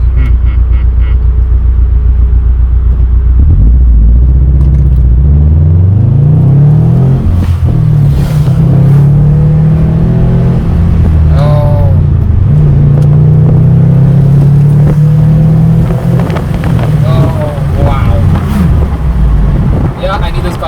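Subaru WRX STI accelerating from a stop, the engine pulling up through several gear changes with rising and falling pitch, loud and close, heard from inside the car.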